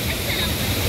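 A mountain waterfall of fast, heavy water roars up close, a loud, continuous broadband rush with no pauses.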